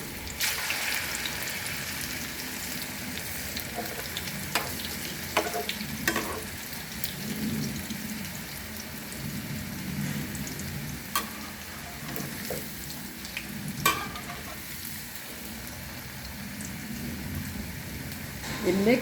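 Vegetable pakoras frying in hot oil, a steady bubbling sizzle that runs throughout, broken by occasional clicks and scrapes as batter pieces are dropped in, with faint voices in the background.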